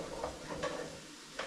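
Aromatics sizzling in a pan, a soft, steady hiss broken by three brief scraping stirs, close but quiet, with no voices over it.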